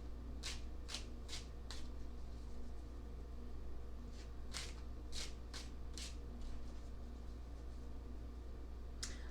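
Tarot cards are shuffled and handled close up, with crisp riffling flicks in two quick clusters over a constant low room hum, followed by softer card handling.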